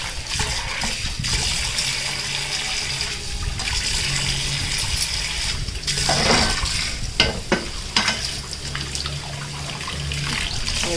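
Water runs steadily from a tap over rusty iron cookware, splashing and clanking as the soaped pan is scrubbed and rinsed.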